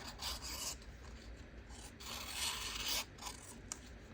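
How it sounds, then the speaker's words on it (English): Paper scraps trimmed back to the edge of a cardstock journal page, giving a close, steady rasping cut-and-rub sound in several strokes, with no talking. "So I'm just going to trim this back to the cardstock."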